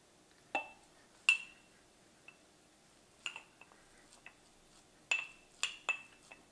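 Bacon pieces being crammed into a glass half-pint canning jar, giving scattered sharp clinks and knocks of glass in irregular bursts, close and fairly faint against a quiet room, with no talking.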